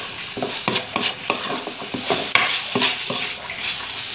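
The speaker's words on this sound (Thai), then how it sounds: "วันนี้ได้แล้วแค่คลุกเคล้าให้เข้ากันไม่ได้เปิดไฟแรงนะคะ" Pork and banana stem being stirred with shrimp paste in a pan over low heat for a southern Thai dish, giving repeated scraping, clacking strokes of a utensil against the pan with a soft sizzle underneath, close and fairly loud.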